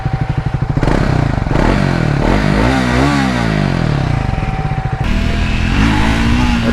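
A Triumph Speed 400 motorcycle engine revs loudly and close by, its deep bass exhaust note rising and falling through a sweeping throttle blip before settling into a steady, throbbing idle.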